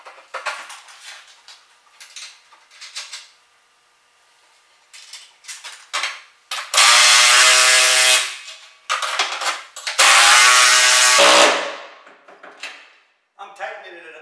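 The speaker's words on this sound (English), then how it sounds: "you put a nut on the bottom side of the floor, and then you can go ahead and tighten those up" Nuts being tightened onto bolts through the wooden floor of a DIY big round hay feeder, with metallic clinks and ratcheting bursts in two long loud runs amid handling knocks, a voice talking in between.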